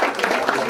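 A short burst of applause from a group, steady clapping filling the moment.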